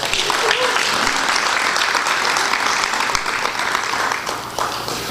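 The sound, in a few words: audience clapping hands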